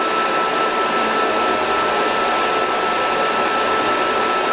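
Rotary tool spinning a leather polishing bit inside a metal ring, a continuous high, even whine with airy hiss, close and steady throughout with no break.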